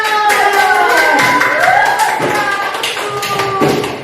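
Classroom applause for a student, a burst of many hands clapping together, close and fairly loud, with children's voices mixed in and the clapping fading toward the end.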